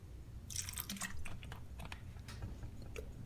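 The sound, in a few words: splash of distilled white vinegar poured into coleslaw dressing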